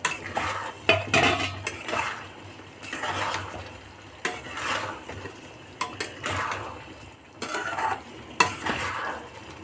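Fried gobi manchurian pakoras are stirred into a simmering sauce in a pot, with a utensil scraping and clattering against the metal in irregular bursts. Bubbling comes through between strokes, close and moderately loud, and no one speaks.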